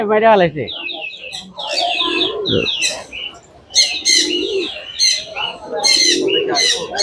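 Pigeons at the bustling Mirpur 1 pigeon market chirp and coo repeatedly at close range, overlapping steady conversation among buyers and sellers.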